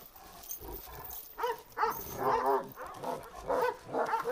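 A Kangal dog barks in several loud, separate bursts, close by, with whimpery yips between them and no speech over it.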